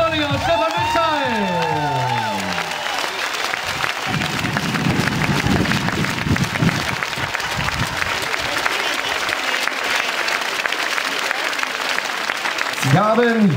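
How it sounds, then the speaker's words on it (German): Big, steady applause from a crowd at a beach volleyball championship award ceremony, with whoops and cheers rising through it; a voice pipes up early on, and the clapping swells again at the end. "Gebt ihr ihm nochmal einen richtig großen Applaus."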